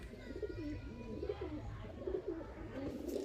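Soft, throaty cooing of racing pigeons in a loft repeats in a steady, overlapping stream, close by, over a low background rumble.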